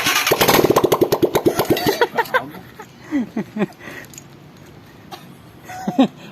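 A motorcycle engine with a leaking exhaust sputters and chugs in a rapid burst, then slows and dies away, followed by a few weaker attempts, loud and close.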